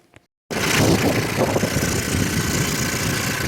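A Honda Z50 clone mini bike engine bursts into life after a brief quiet moment and keeps running loud and close in a steady, rough idle.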